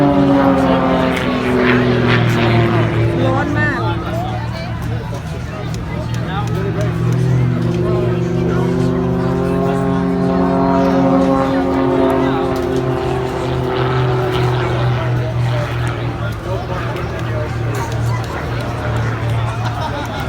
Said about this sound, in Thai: ยืนดูไอ้เครื่องบินโชว์อยู่จ้ะเพื่อน